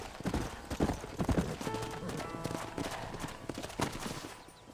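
Horse hooves clip-clop in the Western video game Red Dead Redemption, a quick irregular run of close, hard hoof strikes that slows and thins out toward the end.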